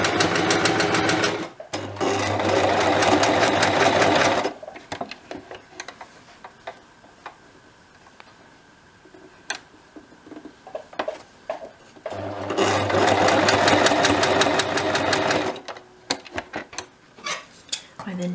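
Sewing machine stitching around the hem of a small dolls house pillow, two loud close bursts of rapid, even stitching separated by quiet handling and clicks.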